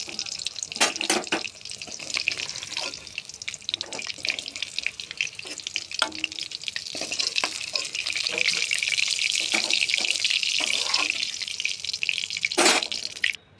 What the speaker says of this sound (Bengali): পাঁচটুমা মাছ দিয়ে দিলাম, হালকা করে ভেজে নেব।